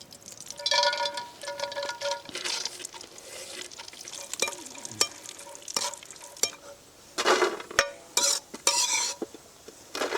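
Cashews and raisins fry in ghee in a large village pot, sizzling as a metal spoon repeatedly stirs and scrapes, with sharp clinks and clatters of utensils against the pan.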